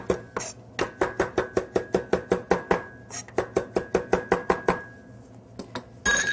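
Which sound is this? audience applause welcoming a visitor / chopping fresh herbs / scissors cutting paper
chopping fresh herbs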